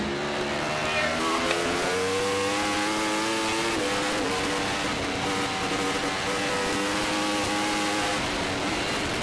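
Several racing motorcycles in a five-bike Formula Pacific road race scream past in a tight pack, with loud overlapping high-revving engines and rising and falling pitch as they shift gears, continuous for the whole stretch.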